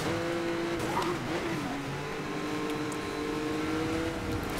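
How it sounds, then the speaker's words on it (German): A red Porsche in Need for Speed Most Wanted (2012) revs as it accelerates, its engine note sliding upward with a short tire squeal early on, steady and loud with no talk. "dann einfach wieder Gas geben. Mit unserem roten Porsche."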